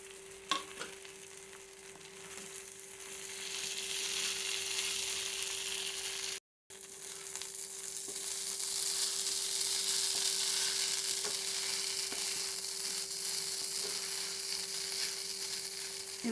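Crumbled idli and onion stir-fried in a pan for idli uppuma, giving a steady, even sizzle with soft stirring scrapes, close and moderately quiet, broken by a brief moment of silence partway through.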